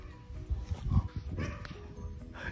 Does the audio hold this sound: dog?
yes